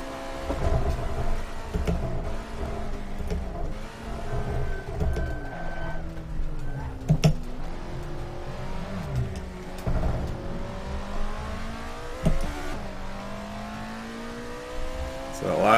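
Alfa Romeo 33 Stradale lapping Monza in Assetto Corsa: a loud, close engine note climbs through the revs, drops at each gear change and climbs again for the whole stretch, with occasional lifts and downshifts.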